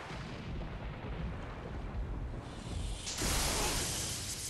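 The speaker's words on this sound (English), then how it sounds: "Is that the lightning that was hitting me underwater?" Lightning strikes in Sekiro: Shadows Die Twice with a deep rumbling roar that swells into a bright, crackling burst near the end, loud and close over a noisy, thundery backdrop.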